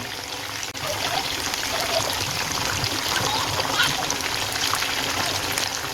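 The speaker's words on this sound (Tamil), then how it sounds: "எல்லா சிக்கனையும் சேர்த்தாச்சு இதையும் மீடியம் ஃப்ளேமில் வச்சு நல்லா பொறிச்சு எடுத்துக்கலாம்" Chicken pieces fry in oil over a medium flame, giving a steady, close bubbling sizzle with a faint voice in the background.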